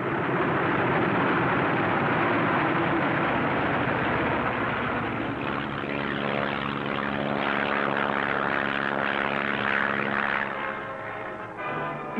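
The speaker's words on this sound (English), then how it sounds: "a first flight takes off in the sunrise, others following at regular intervals" Military aircraft engines roar on the Adak airfield in the Aleutians as bombers take off one after another at sunrise. The propeller and engine drone is loud and continuous and swells as the planes pass, with a steady pulsing hum.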